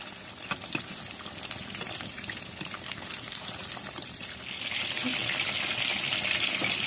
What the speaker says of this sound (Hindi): फिश को एक साइड से फ्राई करते हुए तकरीबन 4 से 5 मिनट हो चुके हैं।